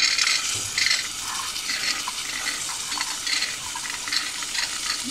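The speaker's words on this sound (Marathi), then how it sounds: "हे जे चणे आपण भिजवून घेतलेले ते असेच मी पाणी काढून टाकलं आहे आणि आता हे आपण त्यामध्ये घालूया." Soaked, drained chickpeas go into a hot masala in a cooker pan for a chickpea curry, bringing a bright, broad sizzle and stirring scrape that runs steadily and loudly throughout, with no talking.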